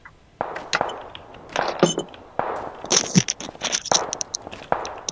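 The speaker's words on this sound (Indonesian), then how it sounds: "Berisik banget tembak-tembakan mulu." Bursts of gunfire from the battle royale game PUBG, several sharp cracks and rattling volleys scattered irregularly over a few seconds, mixed with clangs and scrapes, no speech over them.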